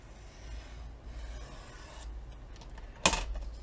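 A letter-size 8.5 by 11 sheet of paper is trimmed, giving soft close rubbing and slicing sounds, then a sharp brief cut or snip near the end.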